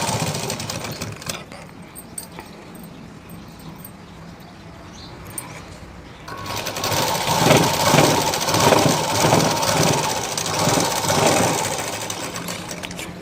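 A sewing machine stitches the side seam of a blouse. After a quieter start it runs in a loud, close, steady whirring burst with a fast rhythmic mechanical chatter.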